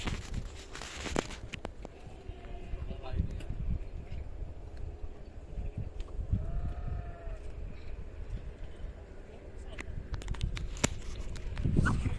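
Sheep bleat here and there over a steady outdoor rumble, with shuffling hooves and movement nearby.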